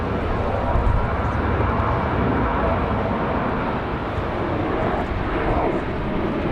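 An American Airlines Boeing 737 departs Raleigh-Durham airport in strong wind, its jet roar steady and fairly loud, blended with buffeting gusts across the microphone.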